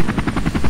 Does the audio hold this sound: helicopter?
yes